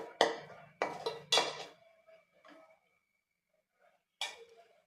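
A spoon stirs coriander, turmeric and chili powder in a cooking pot for bitter gourd kuzhambu, making a quick run of three loud metallic clanks and scrapes, a few faint scrapes, then a single clank after a pause.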